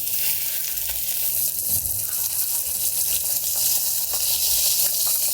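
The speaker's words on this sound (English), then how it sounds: "as soon as I put it inside the pan, that skin started bubbling" Salmon fillets sizzling skin side down in a hot pan, a loud continuous hiss and crackle of frying oil that stays steady throughout, close up, with no talking.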